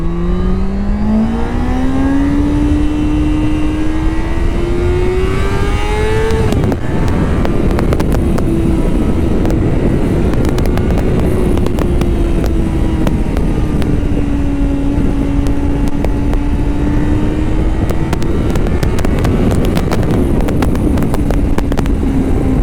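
A Yamaha Fazer 600 sport-tourer motorcycle engine drones loudly while riding, its pitch climbing steadily under acceleration, dropping at a gear change, then holding and swelling again, with wind rush over the microphone throughout.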